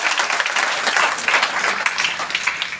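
Loud, dense applause from a seminar audience, continuous and close, with no break across the short burst.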